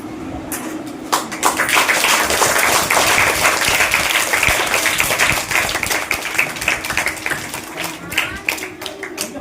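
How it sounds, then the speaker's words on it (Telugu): A crowd of parents and students at a school parent-teacher meeting claps loudly and steadily for several seconds, a dense burst of applause that tapers off with a few lingering claps. "పేరెంట్స్ కూడా గట్టిగా చప్పట్లు పట్టాలి"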